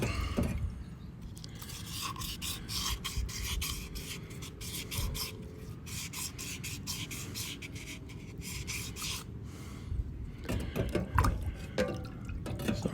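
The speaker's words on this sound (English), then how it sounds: "And you just dip it in water to rinse it." Rapid, close, fine ticking and trickling as water drips and splashes off a small FEBCO part just dipped in water to rinse it, steady for a stretch with a louder wet burst near the end.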